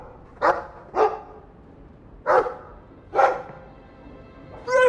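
A Mabari war dog in the Dragon Age 2 video game barks five times, in short, sharp, evenly spaced woofs that stand out clearly against a quiet background.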